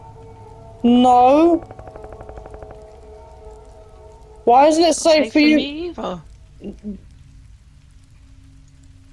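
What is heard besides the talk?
rain falling, from a horror video game map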